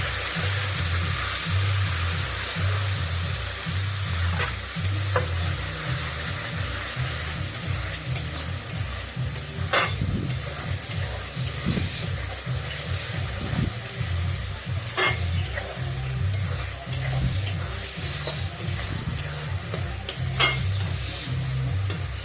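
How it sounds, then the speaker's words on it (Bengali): Spice-coated chicken being stirred in a pan for steam biryani, a steady scraping and light sizzle that runs on continuously with faint clinks, close and alone. "এবার একসাথে একটুখানি মশলাটাকে একটু মিক্স করে নিই"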